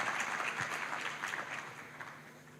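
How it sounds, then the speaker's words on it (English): Applause from an audience, a steady wash of many hands clapping at moderate volume, continuous throughout with no voices. "big round of applause for her"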